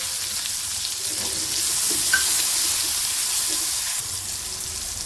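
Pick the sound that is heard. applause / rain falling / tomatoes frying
tomatoes frying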